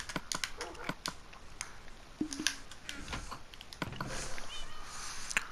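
Minecraft chickens on the PlayStation 4 edition give short, scattered clucks mixed with light clicking sounds, an irregular series of brief calls that are fairly close and moderately quiet.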